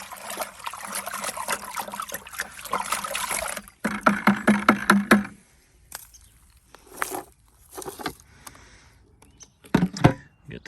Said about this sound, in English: give this a stir with a stick that I just found laying around here